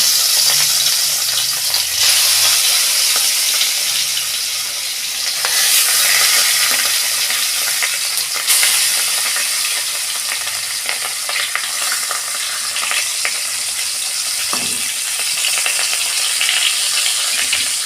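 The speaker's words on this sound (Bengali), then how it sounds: "আমি তেল দিচ্ছি, মাছগুলো ভাজবো। মাছগুলো এবার দিয়ে দিচ্ছি।" Pieces of katla fish fry in hot oil in a wok, a loud, steady, crackling sizzle that runs throughout, close up, with only a few faint knocks and no talking.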